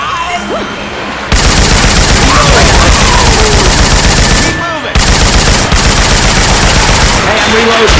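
Syphon Filter weapon sound effects swapped into Left 4 Dead 2 gameplay: loud, sustained rapid automatic gunfire rattling almost nonstop, broken by a brief pause near the middle and a short dip near the end.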